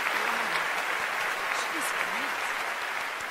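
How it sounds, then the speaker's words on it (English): Thunderous applause fills a concert hall, a continuous dense roar of many hands clapping, heard at a moderate distance with a faint voice threading through it. "Then a thunderous applause filled the hall."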